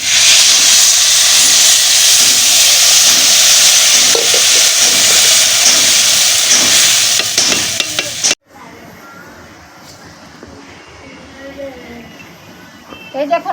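Water hits a hot pan during village-style fig curry cooking, releasing a loud, sustained steaming hiss close up for about eight seconds before it cuts off into quieter kitchen background.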